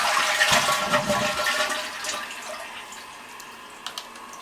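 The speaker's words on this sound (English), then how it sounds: "You just flush it." A toilet fitted with a newly installed bidet attachment flushes, with a loud rushing swirl of water at the start that gradually fades into quieter trickling and a few small drips and clicks.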